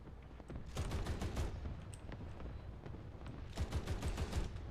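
Rapid automatic gunfire from a Pansarbil m/40 armored car in War Thunder, loud and continuous in two long fusillades with a brief lull between, no voices.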